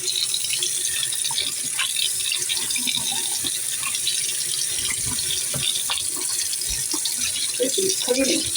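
Tap water runs loudly and steadily into a porcelain sink as it is rinsed clean, a close, continuous splashing rush with a voice talking faintly underneath.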